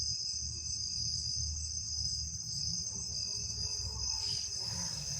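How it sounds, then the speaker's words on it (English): Steady crickets chirping at night in a continuous high trill, with a low background rumble and no voices. "listen to the peaceful sound of the crickets"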